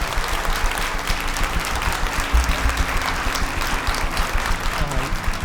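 A talent-show audience in Armenia claps continuously, a dense, even wash of applause filling the hall with a few voices underneath.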